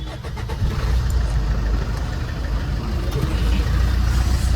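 A car engine starting on a hot day, settling into a steady, loud, close low rumble with some revving, continuous throughout with no clear talk over it.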